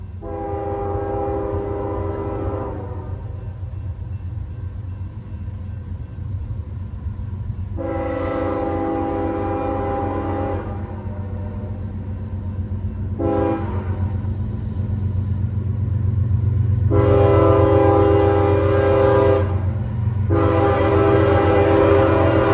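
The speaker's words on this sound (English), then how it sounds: "I decided to stay to see CSX B116 headed to Cicero, Illinois." A CSX freight train rumbles steadily past, its deep horn sounding in several long blasts, loud and close, with no one talking.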